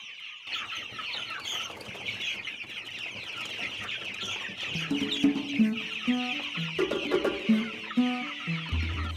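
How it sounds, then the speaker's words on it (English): Many chickens cluck and chatter continuously inside a chicken house, a dense layered flock noise with occasional louder squawks throughout. "Before, Lucy was having problems with her chicken."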